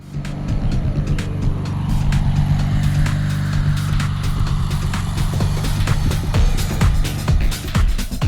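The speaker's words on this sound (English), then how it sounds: "a video clip of my dad driving the mower up a hill or ramp" A 1987 Gravely mower engine with a clutch out of adjustment chugs loudly and steadily up a hill, low and constant throughout, with rattling mechanical clatter building toward the end.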